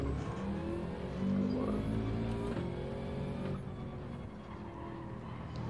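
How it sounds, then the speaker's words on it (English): A BMW engine in Gran Turismo 7 revs hard and steadily, its rising tone held loud and close for several seconds before easing slightly. "Rev it out"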